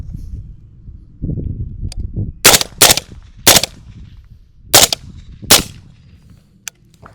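Five loud, sharp gunshots from a PSA JAKL 8.5-inch 300 Blackout firing Winchester ammunition, fired in two quick groups at targets, with lower rumbling handling noise between the shots.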